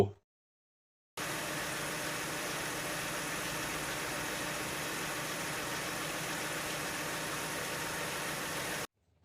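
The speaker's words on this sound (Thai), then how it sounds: "เครื่องยนต์เดินนิ่งเรียบเลยนะครับ" After a second of silence, the 2.5-litre engine of a 1999 Nissan Cefiro A32 automatic idles with a steady, even hum and faint vibration, unbroken and unvarying, no voices.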